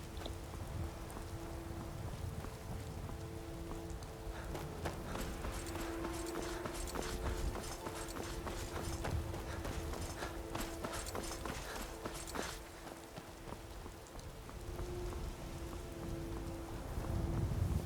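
Steady rain falls in the Skyrim video game, a dense, constant patter with scattered sharper drops and a faint low rumble.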